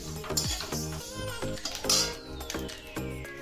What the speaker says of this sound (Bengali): এগুলো আমি শুকনো কড়ায় ভেজে গুঁড়ো করে নেব